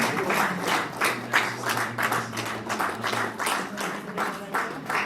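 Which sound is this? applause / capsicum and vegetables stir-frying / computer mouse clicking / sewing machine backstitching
applause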